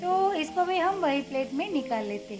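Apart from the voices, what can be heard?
No distinct noise like a dog, phone or traffic.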